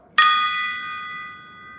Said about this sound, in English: Do you gong on the front of the gong, the part that's kind of bowed out, or on the back?